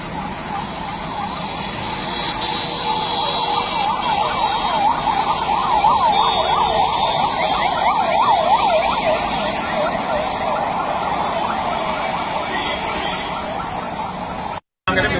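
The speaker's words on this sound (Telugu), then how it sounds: "అంబులెన్స్ ఫాస్ట్ గా పోయేందుకు మీరు జరగాలి దయచేసి ప్లీజ్" An ambulance siren wails continuously in a fast rising and falling pattern during a green-channel transfer, close and loud over road traffic noise, ending with a brief dropout.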